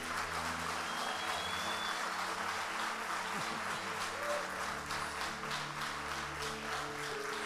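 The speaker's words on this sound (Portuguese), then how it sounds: "Você pode aplaudir a Jesus?" A church congregation applauds during a sermon, with a soft, steady wash of clapping over a sustained low background tone.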